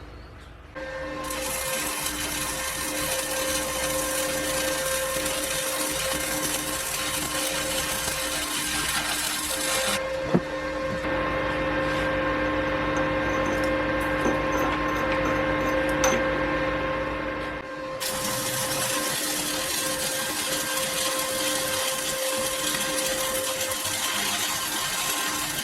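A power sander grinds down metal welds on a homemade ER32 collet chuck spin indexer, a loud, steady whine that runs continuously, drops to a lower tone midway, then returns to full pitch.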